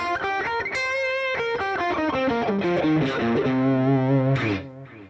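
Electric guitar runs through pentatonic position 5 in a quick, clean-toned succession of picked single notes that ring into a held final note, loud and close, with no talking.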